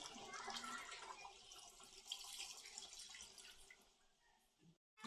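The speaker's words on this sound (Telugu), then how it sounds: "మనం ఇందాక కలిపి పెట్టుకున్న గిన్నెలోనే నీళ్లు పోసుకోవాలి" Water poured from a mixing bowl into a pot of half-cooked chicken curry, a steady broadband splashing pour that runs for several seconds, fading slightly before stopping abruptly.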